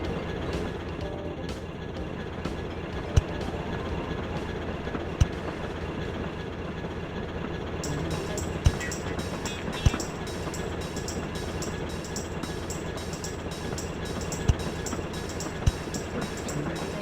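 A train runs in the railway-building game Chris Sawyer's Locomotion, a steady rolling rumble with faint rhythmic clicks and occasional sharp ticks throughout, heard alone without talk.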